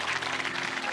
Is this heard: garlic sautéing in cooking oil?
no